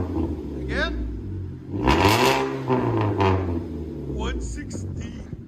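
A Ford Fusion fitted with a cherry bomb exhaust revs hard, its engine note rising to a loud rasp and falling back, with voices talking over and around the revs.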